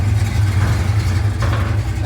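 A car engine idling steadily after its EEC relay was replaced, a low continuous close rumble with a person talking over it.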